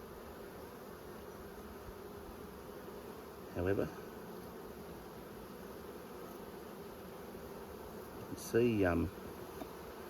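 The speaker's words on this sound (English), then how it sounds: "these bees are really weak," Honey bees in a weak, queenless hive, opened for inspection, give off a steady close droning hum throughout, with two louder, nearer buzzing swells, and a voice briefly speaks.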